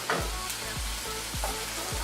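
Dried fish frying in hot oil gives off a steady, close sizzle, with soft periodic low pulses running beneath the crackle; no one speaks.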